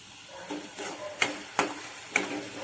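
Chopped tomatoes and onion are stirred in a pan, with soft scraping strokes and a few sharp clicks of the spoon against the metal over a faint sizzle.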